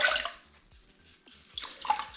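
A big sponge sloshing and wringing in a bucket of clean water while cleaning fresh tile on a tub and shower surround, with short splashy bursts and drips separated by quieter gaps, close by.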